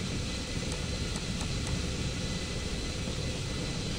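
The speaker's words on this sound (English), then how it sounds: "suicide bomber inbound. Japanese kamikaze torpedo bomber" A Japanese kamikaze torpedo bomber's engine drones steadily and loudly throughout, a broad, unbroken roar that stays constant in strength, with no speech over it.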